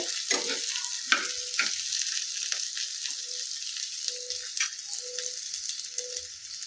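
Bottle gourd with poppy seeds fries on a medium flame, giving a soft steady sizzle with occasional stirring scrapes and light clinks, fairly quiet and without talking.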